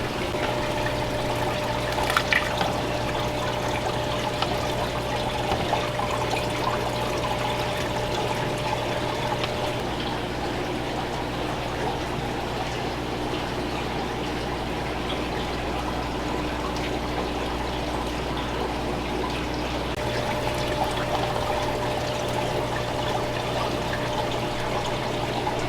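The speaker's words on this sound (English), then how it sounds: "So we're just going to pour them out into the bucket with the net over it." Fish and water are poured from a bag through a net into a bucket, making a steady, continuous trickling and splashing that runs on for a long stretch at moderate volume, with no talking.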